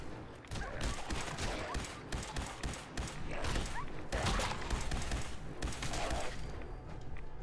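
Sustained automatic gunfire in Fallout 4 in the Glowing Sea, fired at feral ghouls in dense, loud repeated bursts with thumping impacts that carry through the whole stretch.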